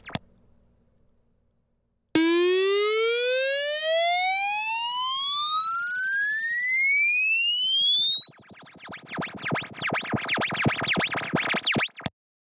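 A sine sweep fed through a distortion box climbs steadily with a stack of rising harmonics, while aliased tones fold back and warble into harsh, buzzing chaos near the end. It plays loud and alone, with no talking.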